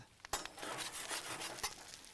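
A heavy-duty pan of aubergine in olive oil is shaken on an outdoor grill: faint scraping and rattling of pieces sliding against metal, a couple of sharp knocks, and a soft sizzle underneath, with no voices.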